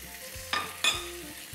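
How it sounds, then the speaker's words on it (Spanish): Rabbit pieces browning in oil with garlic, squash and leeks, a low sizzle broken by two sharp utensil scrapes from stirring. "Vámonos con el conejito y a dorar."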